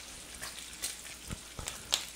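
Strips of American bacon frying in a pan, a steady soft sizzle with a few faint pops and light stirring taps, close and quiet.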